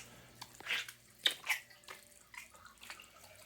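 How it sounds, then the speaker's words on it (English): Hurricane Ida floodwater seeping into a house basement, soft splashes and drips of trickling water, close and intermittent with a few brighter splatters, over a low steady background hum, with no one talking. "water is pretty much coming in from every part of the house"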